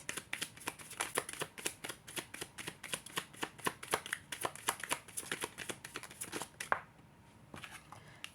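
Tarot cards shuffled quickly by hand: a brisk run of crisp riffling snaps and flutters at a steady rhythm, close and fairly quiet, ending with a soft pause as a card is drawn.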